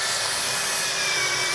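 A Fuyaon brushless grinder sands steel, giving a steady, loud broadband abrasive hiss with a constant high motor whine throughout and no talking.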